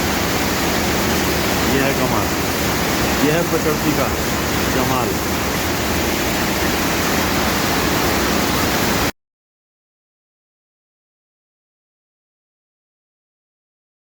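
Muddy runoff rushes down in a swollen stream in Lonavla after two days of nonstop rain, a dense, constant roar of water up close for about nine seconds, a voice briefly speaking over it before the sound cuts out.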